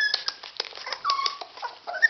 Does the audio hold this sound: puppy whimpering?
yes